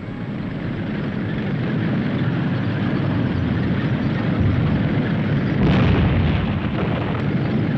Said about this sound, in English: The German tanks will give covering fire while the British tanks advance.